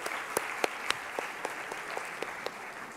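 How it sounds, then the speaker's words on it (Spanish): Welcome applause from an audience at a university rector's greeting event, a steady wash of clapping with a few sharper individual claps standing out, moderately loud and continuous with no voices over it. "Un aplauso para ustedes de bienvenida."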